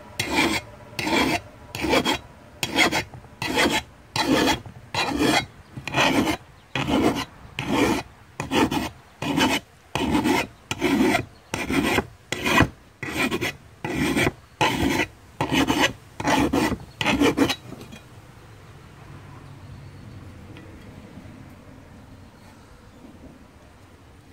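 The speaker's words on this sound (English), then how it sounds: "Put it straight down. Sharpen on the downstroke." Hand file sharpening a John Deere mower blade, around twenty rhythmic rasping strokes at a steady pace, close up, then the filing stops and only faint background noise remains.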